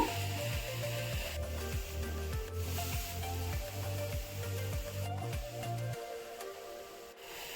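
Cabbage frying in a pan gives a steady, soft sizzle with a rhythmic scraping pattern as it is stirred and turned, close by and without talk.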